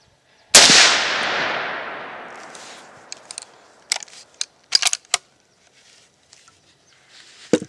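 A single loud 1895 Winchester rifle shot at an outdoor range cracks sharply and rings out in a long decaying echo, followed by several fainter distant shots from other shooters.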